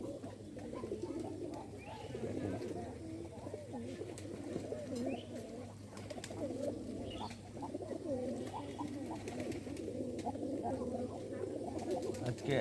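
Pigeons coo steadily and repeatedly at close range for the whole stretch, layered murmuring calls from several birds over a constant low background hum, with no talk.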